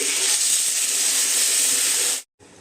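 Water hitting a hot pan of jackfruit and prawns cooked in spices, a loud, close burst of steamy hissing that holds steady for about two seconds, cuts off, then returns more softly.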